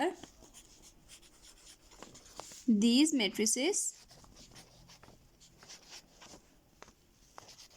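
Pen or marker strokes while matrices are written out in a maths lesson, soft scratchy writing running under a teacher's voice, with a brief louder burst partway through.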